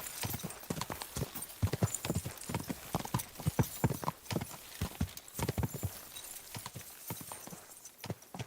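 Horse hooves clip-clopping as a rider travels in Kingdom Come: Deliverance II, a medieval role-playing video game; a quick, regular rhythm of close, punchy hoof strikes with faint ambient game sound beneath.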